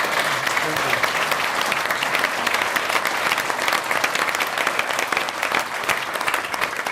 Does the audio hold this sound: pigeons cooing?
no